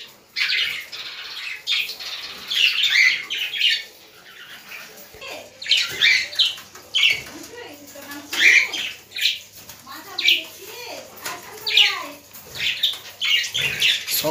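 Caged pet birds come down to drink water, giving repeated close chirps, squawks and soft wing flutters in irregular bursts throughout, with no talk over them.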